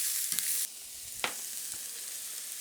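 Two thinly sliced onions frying in a skillet for an Italian sausage dish, a soft steady sizzle with a brief louder burst at the start and a few light clicks from stirring.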